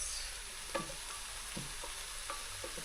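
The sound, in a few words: stirring turmeric into bolognese sauce in a pan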